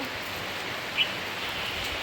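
Steady rain falls in an even, continuous hiss, with one faint brief tick near the middle and no talking.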